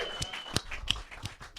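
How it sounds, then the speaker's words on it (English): A comedy club audience claps for a comedian walking on stage, a short burst of scattered hand claps and taps at moderate volume with no one talking. "Clap it up for Kefra"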